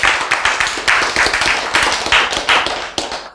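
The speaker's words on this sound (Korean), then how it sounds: "박수 안 나와, 이럴 때" A church congregation claps during a sermon, loud close hand claps in quick uneven bursts, with no voices over them.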